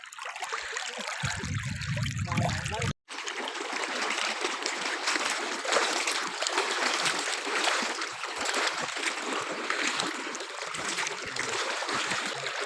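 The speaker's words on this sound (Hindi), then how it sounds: "दरिया सतलुज पिंड लाला अमर सिंह में पानी दाखिल हो गया, ये देख सकते हैं आप।" Sutlej river floodwater rushes into the village of Lala Amar Singh near Bahawalnagar, flooding rice paddies with a steady, loud gurgling torrent, briefly cut off near the three-second mark before continuing.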